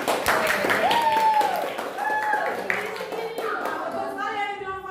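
Children clap together in a classroom, a light scattered applause that swells then thins, with a teacher's voice and kids' voices talking over and after it.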